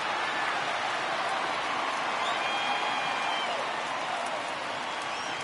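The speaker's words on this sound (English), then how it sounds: "And the crowd getting pumped up here at Guaranteed Rate Field." A big ballpark crowd at Guaranteed Rate Field during a Blue Jays vs. White Sox baseball game makes a steady, dense roar of cheering and clapping that fills the whole stretch with no let-up and no talk over it.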